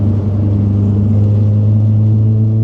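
Loud, close engine of a 620 bhp hot hatch with a deep steady drone and rumble, held at an even pitch rather than climbing sharply.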